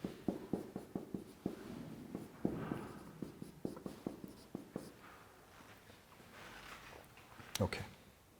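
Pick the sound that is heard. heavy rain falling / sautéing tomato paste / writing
writing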